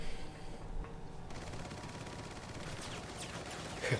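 Gunfire in Resident Evil 4 aimed at the player, a dense, steady rattle of rapid shots that runs throughout at moderate distance, with no speech.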